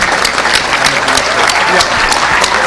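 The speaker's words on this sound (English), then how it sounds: "we're going to give them applause" A packed hacking-conference crowd applauds loudly, a thick, continuous roar of clapping hands close and full, with faint voices mixed underneath.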